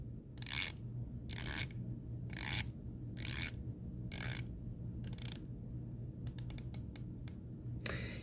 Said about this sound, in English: So speaking of the bezel, let's take a look or listen to its turn action.